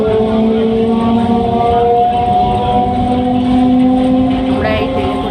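Riding aboard a moving train in Kolkata, a loud constant rumble of wheels and carriage runs throughout, with long sustained whining tones layered over it and no clear talk.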